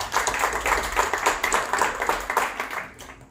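An audience at a literary reading circle applauds a writer and poet, a lively, close round of many hands with rhythmic surges that gradually thins out near the end.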